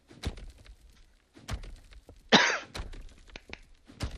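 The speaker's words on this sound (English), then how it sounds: "Man, my cough." A man coughs and clears his throat in short harsh bursts, close and dry, one stronger hacking cough in the middle, between quiet thuds and footstep-like knocks in a survival video game.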